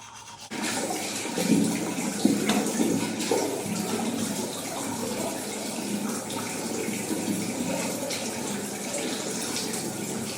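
Tap water runs steadily into a bathroom sink as someone washes their face after brushing their teeth, with a continuous rushing wash and small splashes close by, lasting throughout.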